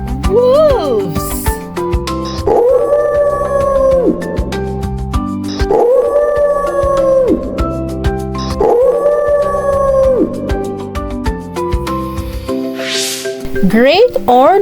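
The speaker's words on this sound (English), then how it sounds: "Wolves." Wolves howl in three long, sustained rising-and-falling calls at a steady pace, set over continuous background music.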